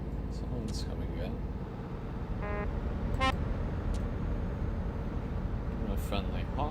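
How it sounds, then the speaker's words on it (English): A truck horn in the Euro Truck Simulator 2 driving game gives two short honks over a constant engine and road drone, with people talking throughout. "A friendly honk."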